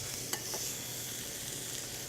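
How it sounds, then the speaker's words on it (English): Food sizzling in a hot pan in a restaurant kitchen, a steady bright hiss with small crackles, close and continuous, with no voices over it. "Got to love that sizzle noise."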